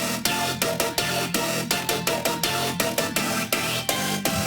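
Heavy color bass synth lead layering a synced square wave, a saw wave an octave up and noise under OTT compression, playing a dense, bright rhythmic riff with sharp repeated note attacks, loud and alone.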